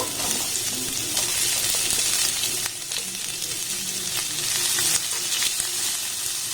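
Onion sizzles in a hot pan with garlic and cumin seeds, a constant close frying hiss with occasional soft scrapes and clicks from stirring.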